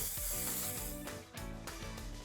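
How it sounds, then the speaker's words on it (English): Nonstick cooking spray hissing from a can into water-bottle ice tray molds, a brief close spray burst with a short pause in the middle. "So give it a quick nonstick spray."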